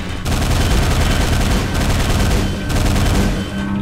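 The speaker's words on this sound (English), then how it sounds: "And a machine gun." Continuous rapid machine gun fire in the video game Quake, a dense loud rattle that runs almost unbroken for several seconds with slight dips in level, close and alone.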